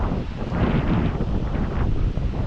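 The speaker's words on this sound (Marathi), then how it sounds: "आज वारा खूप सुटला आणि समुद्र एकदम खवळलेला दिसतोय." Strong wind buffets the microphone beside a rough, churning sea on a Mumbai shoreline at evening, a steady loud roar of gusts and surf running through the whole stretch with no voices.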